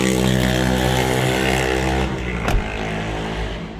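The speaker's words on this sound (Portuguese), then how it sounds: "Desculpa a moto que passou aí." A motorcycle engine drones loudly nearby, its steady rumble fading slightly as it passes by.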